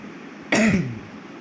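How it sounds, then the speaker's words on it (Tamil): One short, harsh cough, close and abrupt against a quiet background, fading quickly. "சாரி கைஸ், தெரியாமல் இருமல் வந்துட்டு."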